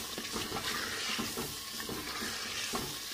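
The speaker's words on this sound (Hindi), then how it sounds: "अब मैं इसे इस मसाले में शामिल कर दूँगी। बिस्मिल्लाहिर्रहमानिर्रहीम। तो इसे भून लेंगे" Half a kilo of chicken being fried and stirred in masala in a pan for chicken kachnar, a steady close sizzle with scraping stirs throughout and no talk.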